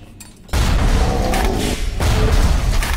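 Grenade launcher explosions in the video game Bioshock burst in suddenly after a quiet start and continue as a dense, loud rumbling blast that stays heavy to the end.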